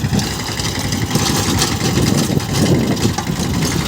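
A mini tractor engine runs steadily while pulling a rotavator through soil, a loud continuous low rumble with a coarse mechanical clatter that holds even throughout, with no speech over it.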